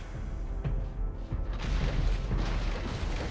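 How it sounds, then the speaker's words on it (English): A turret explodes in the Mobile Legends game, a deep rumbling boom that swells and lingers under dense battle noise and game effects. "Your team destroyed a turret!"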